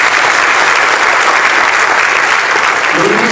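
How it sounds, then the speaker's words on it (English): Loud, sustained applause from a large audience at an ANCA Western Region event honoring longtime contributors, steady clapping filling the room without a break. "Warm, loud applause for them."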